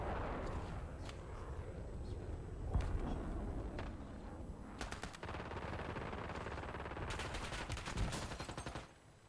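Rapid automatic gunfire from a Call of Duty: Black Ops 6 match, sustained bursts and scattered shots crackling continuously over a dense battle din, fairly loud throughout.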